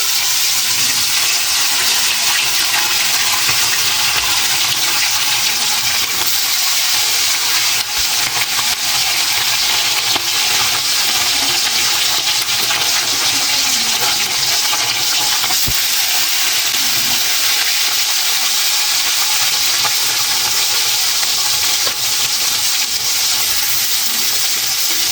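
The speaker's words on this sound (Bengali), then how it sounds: "মাছ ভাজবো" Fish frying in hot oil in a home kitchen gives a loud, unbroken hiss that stays even and close for the whole stretch, with no talk.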